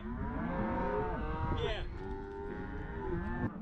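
Cattle on a ranch moo loudly and repeatedly while being herded, with several overlapping, drawn-out calls close by and no talking.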